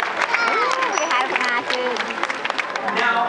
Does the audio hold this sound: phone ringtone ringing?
no